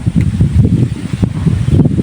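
Strong wind buffets the microphone, a continuous low rumbling roar with irregular gusts and thumps throughout.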